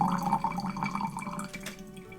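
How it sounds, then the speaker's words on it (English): Wine dripping and splattering into a glass, a quiet close-up run of small wet drips and splashes with no talking. "It's dripping. It's like it's splattering."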